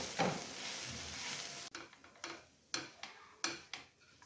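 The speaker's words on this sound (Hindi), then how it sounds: "तो अब डाल देंगे ये बंद गोभी।" Finely chopped cabbage tipped into a hot pan for a restaurant-style snack. A loud hiss opens, then a run of short stirring scrapes and taps comes at an uneven rhythm over a soft sizzle.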